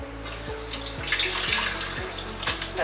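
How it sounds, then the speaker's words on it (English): Water runs steadily from a pan into a kitchen sink, a continuous close splashing and gurgling stream with faint rhythmic knocks underneath, no voices. "drain the liquid in the pan and let all the water run out"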